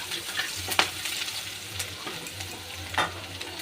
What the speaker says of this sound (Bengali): এবার আমি ভালো করে বাদামি করে ভেজে নেব।